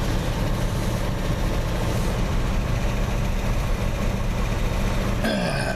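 An old vehicle engine idles steadily just after a cold start in October, a continuous low rumble with no speech, ending in a brief rising mechanical whine.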